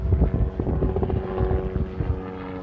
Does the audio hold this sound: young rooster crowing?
no